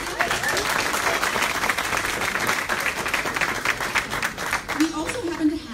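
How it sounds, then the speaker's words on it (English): Audience at an NDP political nomination meeting breaks into sustained applause, dense clapping filling the room steadily for several seconds, with voices mixed into the crowd noise. "so big round of applause for Felicia."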